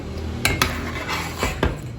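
A spoon stirs peaches with their pits as they cook in a pot, giving a few sharp metallic clinks and scrapes against the pot over a steady bubbling hiss, close up and without voices.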